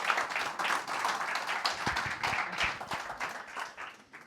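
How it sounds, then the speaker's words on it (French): Audience applause at a Claude Code community meetup in Strasbourg, a steady wash of clapping from a room of people lasting several seconds, with a few sharper nearby claps standing out. "Vous pouvez l'applaudir"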